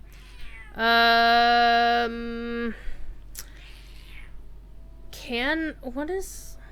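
A cat lets out a long, loud, sustained meow up close, followed by several shorter wavering meows, with quieter sounds in between.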